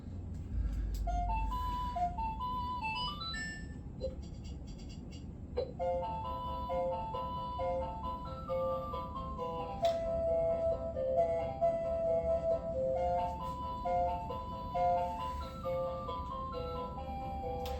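A tinny electronic melody chimes from the small built-in speaker of a resin Zelda statue over a steady low hum, playing a simple repeating tune at moderate volume.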